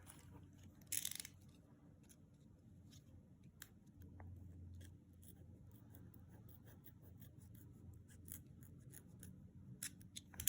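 Scissors cutting planner paper: a quick close snip near the start, then soft, faint crisp cuts and paper rustles in a quiet room.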